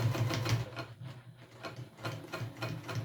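Sewing machine topstitching a backpack, a close mechanical chatter of needle strokes in uneven bursts, slowing and pausing before picking up again.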